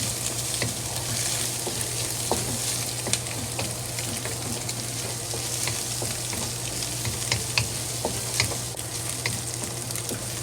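Egg and chopped green onion frying in a pan for fried rice, a steady close sizzle with scattered crackles and stirring clicks throughout.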